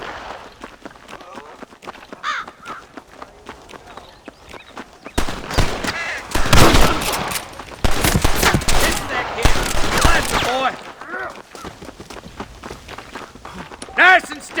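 Gunfire in the Western video game Red Dead Redemption: rapid overlapping shots in a loud burst through the middle, with scattered single shots, footsteps and hooves around it, and game characters shouting over the action.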